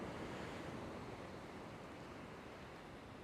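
Big ocean waves surge and break against rough rocky terrain at a fishing spot, a continuous loud roar of surf and wash mixed with wind buffeting the microphone, with no voices.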